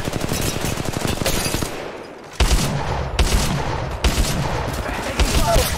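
Rapid automatic gunfire from a mobile Apex Legends battle, dense bursts of shots with brief pauses and sharp individual reports, loud and close with no talk.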